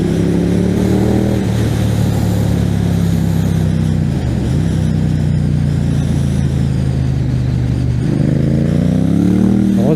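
A Ducati Diavel Carbon motorcycle engine revs loudly up close, holding a strong rumbling idle that dips, then climbs again in rising throttle blips near the end, with no talking over it.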